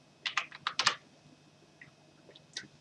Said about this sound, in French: j'ai du mal à taper